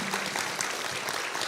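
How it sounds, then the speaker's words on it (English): Applause from a town hall audience in High Point honoring election workers, a dense, steady wash of many hands clapping at moderate volume throughout, with no talk. "Can we get another round of applause for our election workers?"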